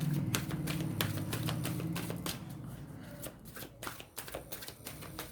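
Tarot cards are riffled and shuffled with a steady fluttering rush, then drawn and laid down in a run of crisp separate flicks and taps, close and clear with no talking.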